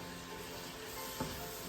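Tinga de pollo chicken being stirred in a pan gives a quiet, steady sizzle with one brief scrape partway through.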